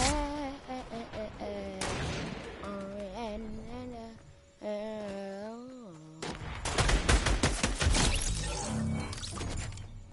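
Rapid bursts of assault rifle fire in the video game Fortnite, loud and dense, mixed with other game sounds and excited shouting.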